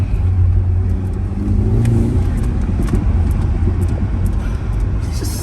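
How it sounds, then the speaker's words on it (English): A car engine with a stage 2 tune revs steadily up close as the gas pedal is pumped, a continuous low rumble with a faint rising surge partway through. "just tap the pedal, just pump the pedal a little bit, the gas pedal"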